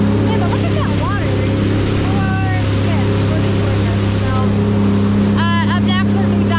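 A 19 ft jet boat motors into an inlet in the Bahamas, its loud steady engine drone and rushing water filling the air while people talk over it close by.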